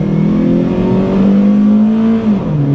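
Toyota Celica GT-S engine revving close by, a loud sustained drone that climbs gradually in pitch and then drops off near the end.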